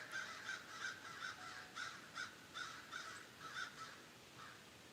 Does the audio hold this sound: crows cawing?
yes